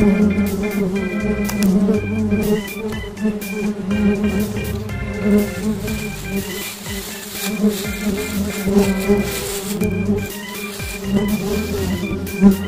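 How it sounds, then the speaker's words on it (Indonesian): Trigona leviceps stingless bees swarming around their hive, a dense continuous buzzing with overlapping wingbeat hums from many bees flying close by, steady and fairly loud with no talking. "Ini dia keberadaan dari lebah Trigona leviscap ini yang berhamburan di luar, berseliwuran dengan lebah Trigona hitama"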